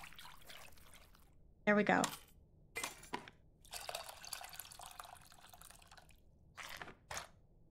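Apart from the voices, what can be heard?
water pouring and dripping while cooking in video game Venba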